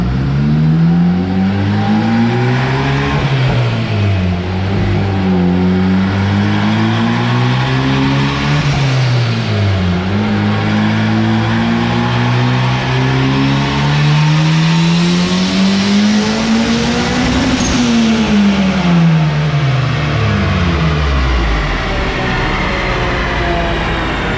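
A turbocharged Honda K20A3 engine on a dyno revs repeatedly, climbing and dropping in pitch in a series of loud rising pulls, with a long final sweep up to high revs before easing off.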